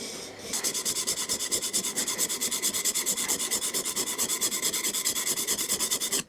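A thicker blade is sharpened freehand on a stone, with steady rhythmic back-and-forth rasping strokes, about five per second, close and even throughout.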